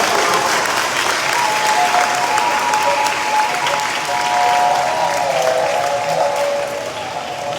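An audience at a school celebration claps loudly and continuously for student choir performers, a dense wash of applause that eases off slightly near the end.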